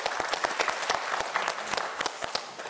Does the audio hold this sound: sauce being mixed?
no